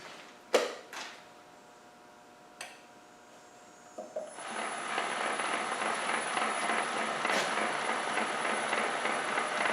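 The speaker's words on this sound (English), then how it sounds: "Don't worry about the clicky clacky sound, it's my input side that's doing it." A machine with a bent shaft starts up after a few scattered clicks and then runs steadily, with a continuous rattling clatter from the input side.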